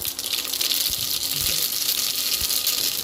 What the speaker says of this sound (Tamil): எண்ணெய் கொதிச்சுது.